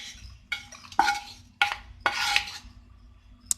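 Beaten egg being mixed with roasted potatoes in a bowl, a few separate bursts of spoon scraping and clinking against the dish, each lasting under a second, with quiet pauses between.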